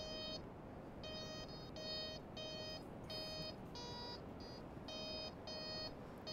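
A metal detector beeps in a repeating pattern of short electronic tones while sweeping over a buried quarter outdoors, the beeps sounding close and steady over a broad background hiss.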